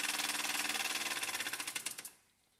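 Vintage toy steam engine running on live steam, chugging in a fast, steady rhythm of puffs that grows more distinct and spaced before cutting off abruptly, leaving near silence.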